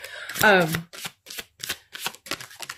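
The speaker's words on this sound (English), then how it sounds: "So I'm trying to find a place to shuffle where I'm not covering up the card." A short vocal sound is followed by a series of soft, rhythmic riffling bursts of tarot cards being shuffled, evenly spaced.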